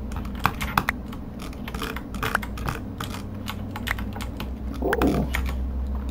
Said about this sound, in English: Dude, my drag clicking's on point.